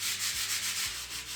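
Steady back-and-forth sanding strokes rasp against filler on a wall, a dry rhythmic scrubbing repeated several times, close and fairly loud.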